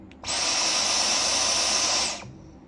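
A Dyson Omniglide cordless stick vacuum switches on, runs with a steady high-pitched whine for about two seconds, then winds down and stops.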